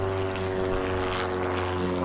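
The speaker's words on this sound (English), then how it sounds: "there's an airplane flying over" A propeller airplane passes low overhead, its steady droning engine hum with strong tonal harmonics holding loud and constant, no voices present.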